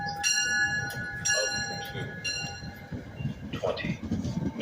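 A late SEPTA Regional Rail train 306 at West Trenton station, its bell ringing in repeated clear strokes over the rumble of railcars, with a steady tone and a public address announcement voice in the background.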